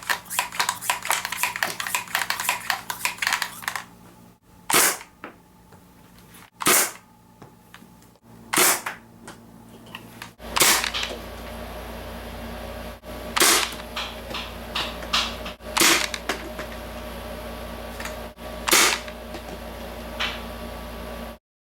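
A modified Nerf pistol fed by an Air Max tank fires repeatedly, sharp loud pneumatic cracks spaced a couple of seconds apart, with rapid clicking and mechanical rattles early on and a low hiss between shots.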